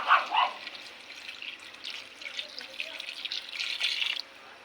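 Water poured into a pot of Filipino chicken tinola with lemongrass, a close splashing and trickling stream that runs for a few seconds, loudest at the start and near the end before stopping abruptly.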